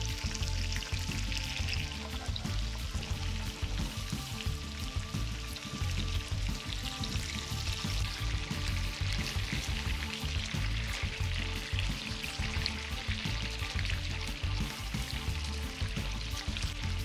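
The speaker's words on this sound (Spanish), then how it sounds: "En cuanto a las costillas hayan dorado, vamos a darles vuelta." Pork ribs frying in a pan as they are turned over, a steady loud sizzle holding through the whole stretch, with no talk.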